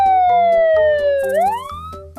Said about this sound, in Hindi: इतने में जमीन के ऊपर पुलिस सायरन सुनाई देती है।